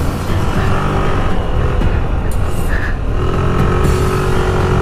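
A car engine strains at high RPM while climbing the steepest part of a steep uphill road. The engine drone is loud, dense and continuous, heard from inside the car with little change in pitch throughout.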